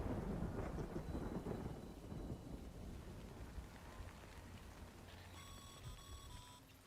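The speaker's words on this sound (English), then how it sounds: "Good thing it was raining." Thunder rolls low and heavy over steady rain in Death Stranding, rumbling louder at first then easing, with faint electronic beeps and tones near the end and no talking.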